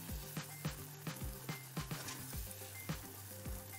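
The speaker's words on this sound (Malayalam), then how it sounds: "നന്നായിട്ട് ഇളക്കി കൊടുക്കണം." Semolina sizzles in a frying pan with rhythmic scraping strokes of a spoon, about a dozen regular stirs over steady crackling, close up.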